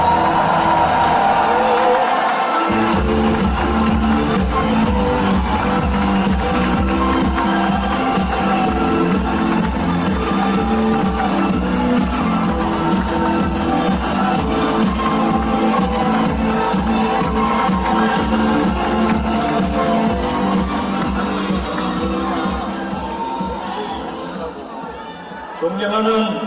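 A large crowd at a Democratic Party rally in the Chungcheong region cheers and applauds for candidate Kim Kyung-soo, a loud sustained wash of clapping, whoops and shouting that carries on for most of the clip before easing slightly at the end.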